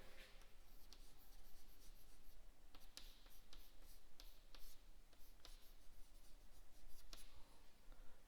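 Chalk or marker writing questions on a board in a live chemistry class, a continuous faint scratchy stroking with scattered taps and ticks, heard alone and fairly distant.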